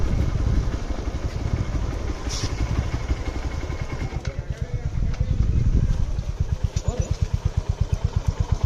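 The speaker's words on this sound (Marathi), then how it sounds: "बाईक पास करतो आणि पुढच्या प्रवासाला सुरुवात करूया." A motorcycle engine rumbles steadily close by, its pulsing beat becoming more distinct toward the end as the bike passes on a road trip near Badami, with no talk over it.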